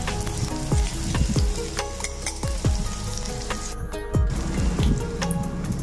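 Chopped ginger sizzles in oil with radhuni and mustard seed tempering for mango dal, a steady close crackle with repeated spatula scrapes and taps at an uneven stirring rhythm.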